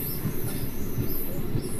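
A MEMU passenger train, number 07674, standing at a platform on the Nidadavolu to Narasapur run, giving a steady low rumble with soft rhythmic knocks.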